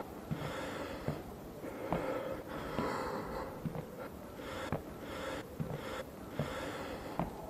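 Heavy, uneven breathing from a character in the Blair Witch horror video game, with close snorts and gasps repeating every second or so over a dim ambient background.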